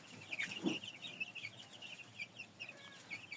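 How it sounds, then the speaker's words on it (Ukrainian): Soft, high chirping and peeping from young chicks in a brooder, scattered and continuous over a quiet hiss, with one brief lower cluck near the start. "тут у нас курчатка з брудера"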